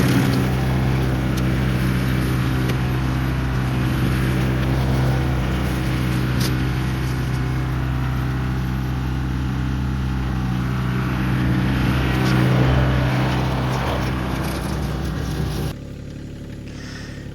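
A tractor pulls a brush cutter along a fence line, its engine giving a steady, loud low rumble with a constant drone that holds for most of the stretch before dropping away sharply near the end; no speech.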